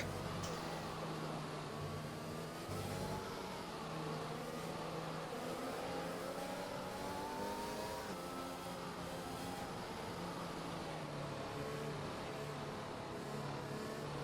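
F1 racing cars in a video game pulling into the pits at the Russia round, a continuous engine drone with shifting pitch that holds steady and fairly loud the whole time, without talk.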